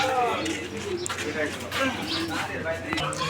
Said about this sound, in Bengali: এটা হচ্ছে শৌকিং কবুতর